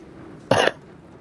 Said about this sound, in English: Excuse me. I'm coughing.